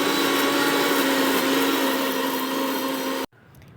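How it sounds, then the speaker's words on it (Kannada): A kitchen mixer grinder blends chopped beetroot in a steady, loud whirring drone that runs continuously for over three seconds, then cuts off abruptly, leaving a short quiet tail. "ಬೀಟ್ರೂಟ್ನ ಕಟ್ ಮಾಡ್ಕೊಂಡು ಮಿಕ್ಸಿ ಮಾಡ್ಕೊಳ್ಳಿ."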